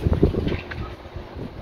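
Blustery spring wind buffeting a microphone outdoors, a loud, close rumbling gust that is strongest at the start and then eases into a steadier rushing hiss.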